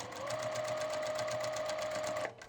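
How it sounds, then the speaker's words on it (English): A sewing machine stitches quilt pieces rapidly in a steady, even rhythm, close and moderately loud, then stops abruptly near the end. "I didn't mean to talk over my sewing machine."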